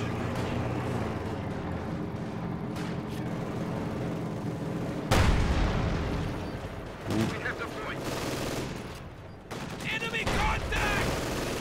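Gunfire aimed at a StuG tank in a World War II strategy game, with sustained bursts of shots and heavy impacts, loud and continuous, while a commentator talks.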